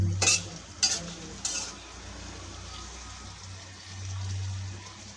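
Potatoes are being stir-fried in a pan at home: a few quick scraping stirs near the start, then a soft low sizzle that swells again toward the end.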